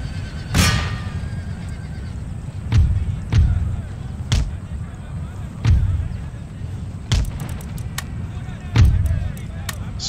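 Mortar and artillery fire in Empire Total War's Maratha campaign sound as a string of sharp, booming blasts spaced a second or two apart, with horse whinnies early on and a few quicker bursts toward the end.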